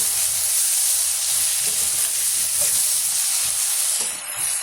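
Brinjal and tomato sautéing in oil in a pan for Chidambaram brinjal gothsu, a steady close hiss and sizzle with soft stirring scrapes underneath.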